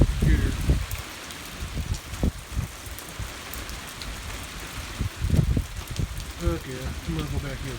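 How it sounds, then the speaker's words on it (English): Overnight rain falls steadily in the dark, a soft continuous patter on outdoor surfaces with a breeze, plus occasional low thumps and a few brief close knocks or clatter. "But I'm getting some rain."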